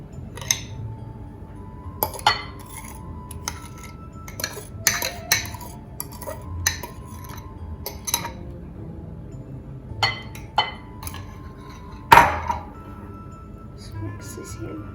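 Sugar and egg mixture being mixed into melted chocolate and butter for Halloween brownies, with irregular clinks and taps of a utensil against a bowl, some sharp and close, over a quiet background while a person talks.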